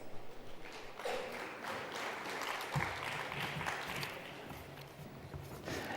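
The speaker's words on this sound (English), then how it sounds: "Please welcome with a round of applause." Applause from an audience, steady clapping that stays fairly faint and even throughout.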